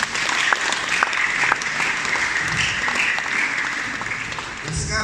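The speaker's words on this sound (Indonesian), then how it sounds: "Berikan tepuk tangan dulu." A church congregation at a Sunday service claps together, with steady, dense applause filling the room and a few louder individual claps standing out.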